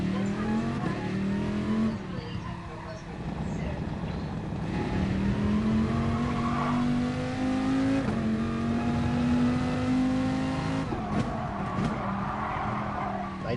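Race car on a practice lap, engine climbing steadily in pitch under throttle through long pulls, loud and close, with a brief tyre squeal and gear change, the driver's voice faint beneath.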